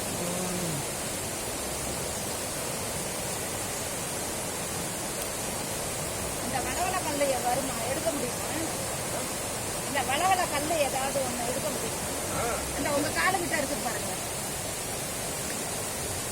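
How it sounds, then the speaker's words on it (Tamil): Fast water at Puliyancholai rushes and roars in a loud, continuous wash like a waterfall, with brief bursts of voices rising over it now and then. "எவ்வளோ ஆர்ப்பரிச்சுக்கிட்டு போகுது பாருங்க, வேகமாக தண்ணி எல்லாம்."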